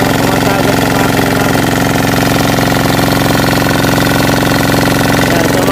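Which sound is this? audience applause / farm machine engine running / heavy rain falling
farm machine engine running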